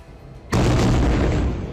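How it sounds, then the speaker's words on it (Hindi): A sudden, loud, deep blast at Rafah airport during Israeli bombing erupts after a quiet lead-in, followed by a sustained rumbling roar that slowly fades. "राफा एयरपोर्ट में भीषण धमाके का वीडियो है।"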